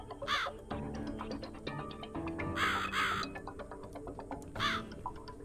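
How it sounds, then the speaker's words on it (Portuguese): Crows caw repeatedly in the video game The Cat Lady, three harsh rasping bursts spaced a few seconds apart over a busy game soundscape of ambient music and effects. "Ô, corvo, e aí?"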